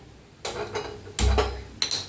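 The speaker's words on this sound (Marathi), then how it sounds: "गॅसवर ठेवलाय बघा एक पातेलं ठेवलंय" A metal cooking pot lands on a gas stove with a few sharp clanks and rattles, the loudest knock coming near the middle.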